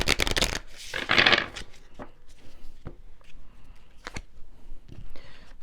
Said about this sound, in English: These cards are so thick I can't shuffle them all at once.